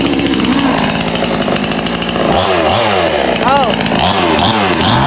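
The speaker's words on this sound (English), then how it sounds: "So now he's gonna test the Stihl or the chainsaw if it will cut." A small Stihl chainsaw cutting wood, engine buzzing loud and close at high revs, then dipping and rising repeatedly as the chain bites into the wood, with a brief voice exclamation over it.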